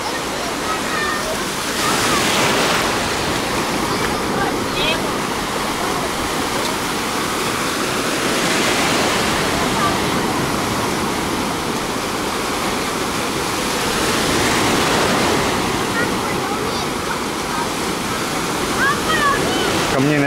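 Gentle small waves lap and slosh along a sandy Turkish beach in Alanya's Oba district, a steady rushing wash that swells and eases over about twenty seconds.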